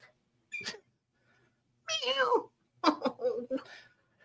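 A small cat gives several short meows in separate bursts with quiet gaps between, close by and clear in an otherwise silent indoor room.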